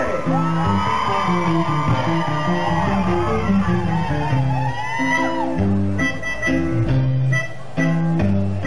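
Crowd letting out a Mexican grito at a live music performance, loud whoops and yells over band music throughout.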